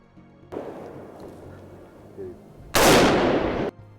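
A rifle shot taken at a wild hog during a hunt, a single loud close blast near the end with a brief rumbling tail, after a few seconds of quiet outdoor background.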